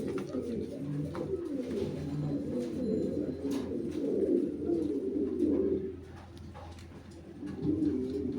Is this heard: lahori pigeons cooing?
yes